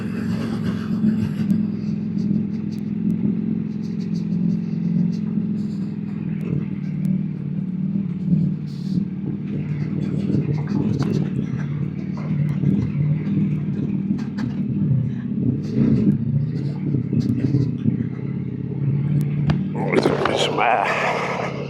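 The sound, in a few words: Ducati V4 motorcycle engine riding off-road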